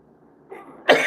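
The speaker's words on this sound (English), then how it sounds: "So I'm sorry about this coughing." A single person coughs twice up close, a soft first cough followed by a louder, harsher one.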